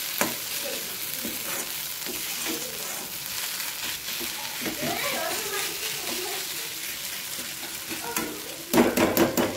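Barnyard millet (bhagar) cooks in a hot pan with a steady sizzle and scraping stir strokes, close up. A voice is heard briefly, and there is a louder clatter near the end.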